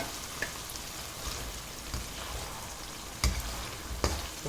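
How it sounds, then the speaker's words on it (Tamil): Roasted ground masala paste sautés in a pan for coriander crab masala, making a dense, even hiss with low rumbling. A few sharp knocks of a spoon against the pan stand out, and nobody talks. "இப்போ நம்ம வறுத்து அரைச்சி வச்சுருக்குற அந்த பேஸ்ட்டையும் அதை சேர்த்து நல்லா வதக்கி விட்டுக்கலாம்"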